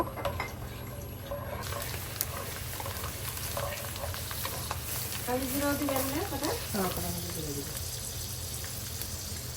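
Dried red chillies and garlic cloves sizzle in hot oil for a mango pickle, a loud, steady crackling hiss that runs the whole time while a voice speaks over it.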